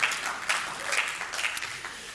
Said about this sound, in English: We got some claps in the house this morning.